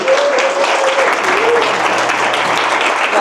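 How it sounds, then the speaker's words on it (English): A conference audience applauds a housing market speaker as he is welcomed, loud sustained clapping from a full room that continues throughout, with voices faintly underneath. "let's give a big round of applause for Logan Mohtashami, please"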